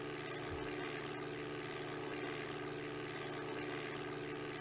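A propeller airplane engine in the Flight Simulator video game drones steadily and evenly throughout, a constant close hum with no speech over it.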